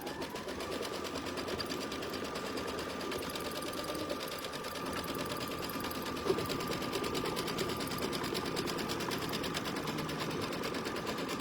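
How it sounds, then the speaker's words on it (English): A sewing machine stitches a tack-down line on a quilt block laid over batting, running in a steady, fast, even whir close by throughout, with one small click partway through. "we are going to stitch our tack down"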